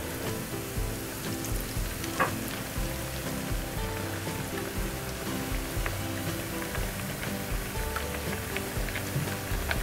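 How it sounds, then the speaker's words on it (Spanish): Gorditas of masa with chicharrón prensado fry in hot oil, giving a steady, dense sizzle and crackle with scattered pops, close and moderately loud, with no talking. "Conforme las vamos haciendo la vamos a ir colocando aquí en el aceite."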